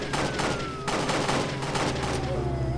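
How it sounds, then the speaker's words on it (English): Rapid bursts of gunfire crackle in a Roblox game, a dense run of close, sharp shots repeating for a few seconds with no talk. "Oh, he's shooting me!"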